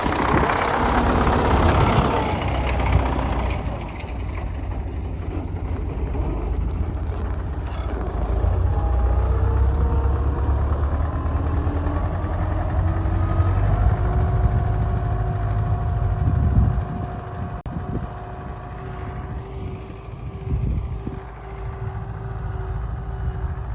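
An MTZ-80 tractor ploughing, its diesel engine rumbling loud and steady close by with a deep low drone that eases off somewhat toward the end, with no voices.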